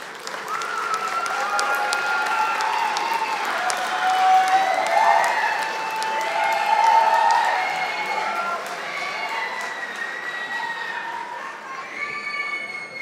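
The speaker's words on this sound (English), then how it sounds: "Let's give them a big round of applause." A graduation audience applauds a practical nursing cohort with sustained, dense clapping and scattered cheers throughout, loud and steady from a large crowd, with shouts and whoops rising over it.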